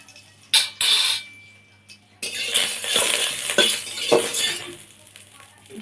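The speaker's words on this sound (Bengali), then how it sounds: "ঘিটা একটু নেড়ে চেড়ে নিলাম" A spoon stirs a little ghee around a hot wok (kadai) on a lit stove while a sweet is being made. It gives close scraping swishes and light metallic clinks in uneven bursts, with quiet gaps in between.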